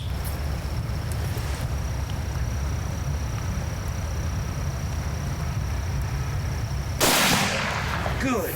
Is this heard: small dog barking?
no